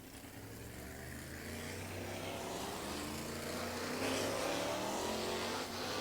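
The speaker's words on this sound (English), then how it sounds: "Cars begin to accelerate." Race cars at the Jackson Nationals accelerate on the track as a broad, rising roar of engines builds steadily and swells toward the end, heard from some distance.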